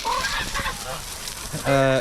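Geese from a small farm flock honk loudly near the end, a burst of several harsh stacked calls after quieter cackling and a brief voice in the background.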